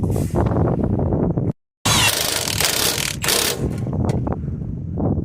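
Mechanical ratcheting and clicking as a bolt is tightened back up on the ball joint of a Citroen Relay, Fiat Ducato or Peugeot Boxer van, steady and close with a short silent gap midway.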